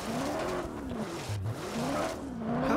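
A car in the video game Just Cause 3 skids, its tires giving a loud, sustained squeal that wavers in pitch over a continuous engine roar.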